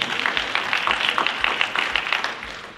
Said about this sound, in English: that's a good clap moment